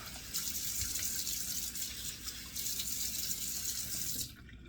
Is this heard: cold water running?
yes